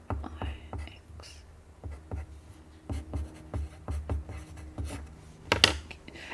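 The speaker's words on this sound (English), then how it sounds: "Let's write that one down" Pen scratching across paper in short, irregular strokes, close by and fairly loud, with a sharper tap near the end, as a crochet pattern name is jotted down in a craft studio.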